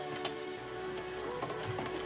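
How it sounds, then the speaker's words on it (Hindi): Sewing machine stitching a dress along a folded edge, a soft steady mechanical hum with light ticking and one sharp click near the start. "अब इसको फोल्डिंग करने के बाद भी बिल्कुल उसी तरह से सिलाई लगाएंगे।"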